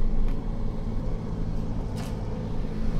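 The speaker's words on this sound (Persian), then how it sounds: "این صدا ماشین اومد." A car passes outside an abandoned hospital, a low steady rumble of engine and road noise heard from a distance, with no talking.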